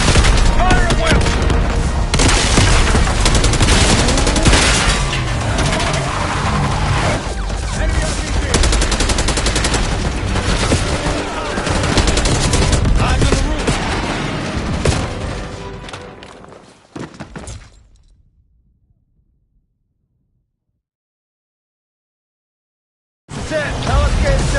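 Dense gunfire from a Black Ops 6 campaign assault on a palace gate: sustained, loud bursts of rifle and machine-gun fire with booms mixed in, which cut off abruptly into silence for several seconds before the noise bursts back.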